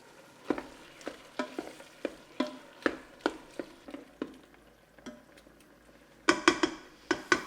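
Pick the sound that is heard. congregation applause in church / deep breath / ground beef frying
ground beef frying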